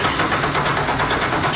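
A powerful boat engine idles loudly and close, a steady throaty rumble with a rapid even pulse.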